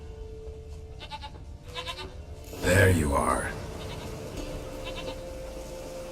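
A goat in The Witcher 3 gives a single loud, close bleat midway through, with wind ambience and a voice speaking around it.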